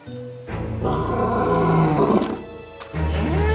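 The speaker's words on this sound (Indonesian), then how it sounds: "Singa itu terdengar seperti kesakitan." A wounded lion in a forest near cattle grazing grounds gives a loud, close roar that swells into a long, strained cry, fades briefly, then surges again.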